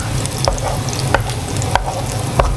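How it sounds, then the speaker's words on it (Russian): Steady close-up sizzling of breadcrumb-coated liver frying in oil, with occasional soft clicks and scrapes from stirring. "И начинаем жарить печень."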